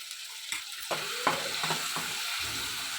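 Onion paste for a chicken roast sizzles in a pan while being stirred, a steady close hiss punctuated by several quick spatula scrapes and taps, with no one speaking.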